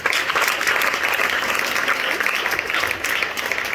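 A church congregation applauds steadily and loudly throughout, a dense wash of clapping with some voices mixed in.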